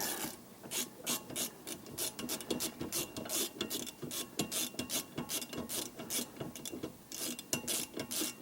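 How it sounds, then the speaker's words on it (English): Quiet, steady rasping and ratcheting as a single Torx screw is undone to free the rear brake disc of a Vauxhall Combo, Corsa or Astra, repeated rhythmic clicks of a ratchet tool with no talking. "Next we're going to take the disc off, which is simply one Torx screw in the front here."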